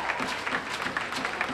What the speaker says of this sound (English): You hear the Laker fans start their traditional penalty kill clap.